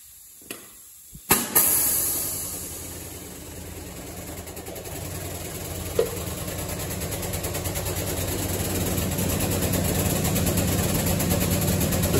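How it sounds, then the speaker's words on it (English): Homemade hydraulic press brake bending metal over a wide bottom V die: a couple of sharp clicks, then a steady low hydraulic hum and hiss that builds slowly as the bend goes on. "This press brake's fairly slow, especially for a bend like this, with this wide of a bottom V die"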